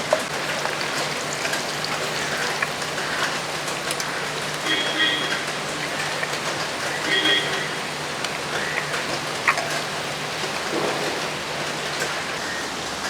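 Boiled eggs being turned over and fried in hot oil for Kerala-style egg curry, giving a steady, dense crackle of sizzling with small pops throughout, close and fairly loud.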